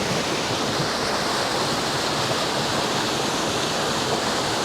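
Antipolo Falls in Indang, Cavite, a waterfall feeding a river, roars in a steady, dense wash of falling water, loud and close with no pauses and no voices.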